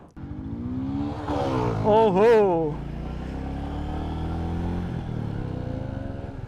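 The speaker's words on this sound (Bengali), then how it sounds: "একটা স্পোর্টস অ্যান্ড একটা ক্লাসিক বাইক নিয়ে আমরা একটু রাইডটা শুরু করি" A CFMOTO 300SR sports bike and a Royal Enfield Meteor 350 classic motorcycle run their engines at the start of a ride, with a steady droning idle and a brief rising rev. A voice briefly exclaims over the engine noise.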